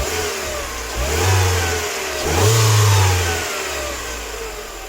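A car engine with a blown head gasket, sealed with DIY water glass, idles and then revs twice, rising and falling each time in a loud, near burst before settling back to a steady idle.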